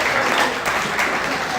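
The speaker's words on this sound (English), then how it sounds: "Let's give him a hand." Steady applause from an audience at a District 10 community meeting, greeting Councilman Perry; a dense, even clatter of many hands holds at a constant level throughout with no pauses.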